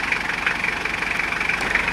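A car engine idles steadily just after being started, a continuous low rumble and hum heard up close with no talking.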